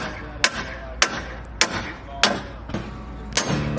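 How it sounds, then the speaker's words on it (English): Nails are driven with a hammer while a house is built in Texas. There are six sharp, loud strikes at roughly even intervals over a low steady background. "Come up here and hammer those other ones."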